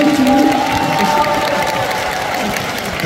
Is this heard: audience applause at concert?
yes